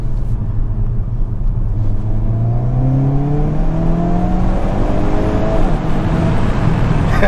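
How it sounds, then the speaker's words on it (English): A 2022 Hyundai Kona N with its four-cylinder engine is heard from inside while driving, the engine note rising through the gears with a low, steady exhaust drone and soft burbles, fairly loud and continuous. "Nice little burbles right there."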